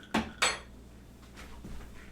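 Ice and liquid in a glass being stirred for a Cuban mojito, two sharp close clinks followed by softer scraping and tinkling.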